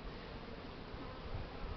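Honeybees buzzing on a winter cleansing flight outside the hive in mid-February, a continuous dense hum from many insects close by, steady with slight swells, with no talk.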